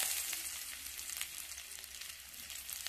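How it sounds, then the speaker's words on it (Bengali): Chopped onion frying in hot oil in a wok, giving a steady, close, dense sizzle that holds evenly from start to finish with no voices. "পেঁয়াজটাকে ভালো করে ভেজে নেব।"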